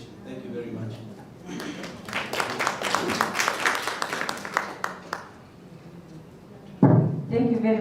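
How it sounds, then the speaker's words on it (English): A conference audience applauds after a presentation with a few seconds of scattered, moderately close clapping that thins out, followed by a voice speaking. "Another round of applause."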